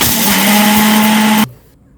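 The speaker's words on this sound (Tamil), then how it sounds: "மிக்ஸில் போட்டு இப்போ நம்ம அடிச்சிடலாம்." A loud mixer grinder grinding roasted gram whirs at high speed, a harsh continuous grinding roar that cuts off abruptly and leaves near silence.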